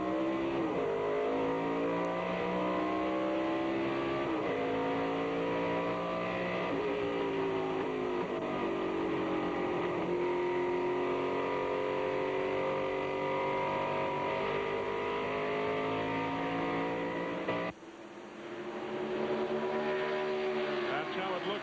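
A NASCAR Busch Series race car at New Hampshire, heard onboard on a restart: a loud, close engine revving and climbing through gears in repeated rising sweeps, with a brief drop-off near the end, under a commentator's voice.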